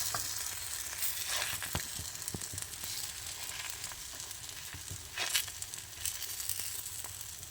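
Jowar-wheat batter spread round and round with a spatula on a hot pan, a steady hiss of sizzling with occasional soft scraping taps, close and without speech.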